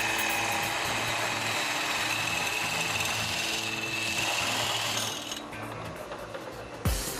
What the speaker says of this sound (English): it's drilled with a circular bit the same size as the tube to which it'll be connected